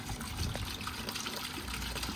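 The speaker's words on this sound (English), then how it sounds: "I'm going to add 1/2 gallon of clear water to my bucket." Half a gallon of clear water pours steadily into a bucket for mixing a concrete stain, a continuous close trickling and splashing throughout.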